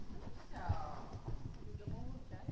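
A calm, well-mannered horse being ridden, its hoofbeats clip-clopping at a steady walk close by while people talk over them.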